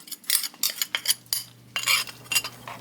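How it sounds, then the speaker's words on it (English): A spoon stirring black bean beef chili in a crockpot, scraping and clinking against the pot in several uneven strokes, close up, with no voices. "And stir it up."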